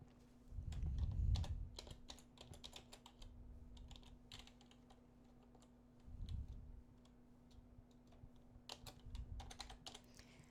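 Computer keyboard typing as data is entered into a table in Word 2016, a steady run of soft, quick key clicks in bursts with brief pauses, fairly quiet and close, no talking.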